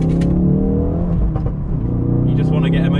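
A Ford Focus RS engine revs and pulls away on a farm, its harmonic whine climbing and shifting over about three seconds, loud and close, with faint background talk.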